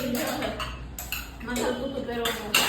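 Dishes and utensils clink and clatter in a home kitchen during breakfast preparation, a run of light metallic taps and knocks with voices talking over them.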